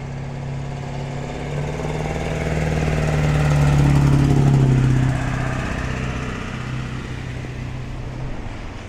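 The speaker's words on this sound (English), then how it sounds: "Nothing like a loud truck to go by when you're trying to show some nature." A loud truck drives past on a snowy Brooklyn avenue, its low engine rumble swelling to a peak midway and then fading as it moves off, with no talk over it.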